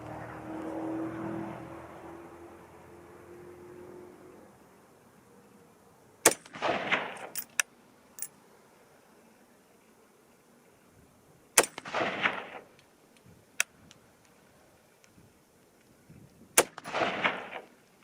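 A rifle with a 24-inch barrel fires 50-55 grain bullets at an outdoor range: three sharp cracks spaced about five seconds apart, each with a short ringing tail, following a low hum, with no talking.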